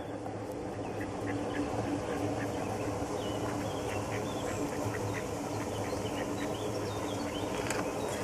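Several ducks quack repeatedly at moderate distance in a park, over a steady outdoor background murmur.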